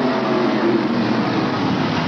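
Dirt modified race cars roaring in a pack at Afton Raceway, a steady loud engine drone that fills the whole stretch without pause.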